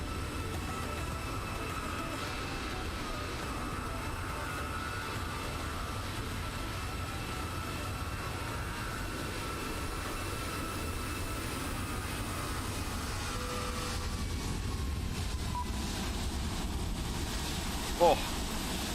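An airliner takes off in Microsoft Flight Simulator, its engines giving a steady, loud, broad roar that holds for the whole stretch with a faint rising whine near the end.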